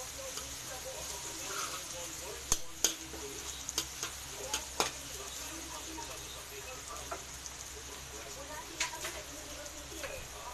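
Garlic and onion frying in a pan for a homemade spaghetti sauce, giving a steady soft sizzle with a few sharp clicks and stirring knocks, while a voice talks over it.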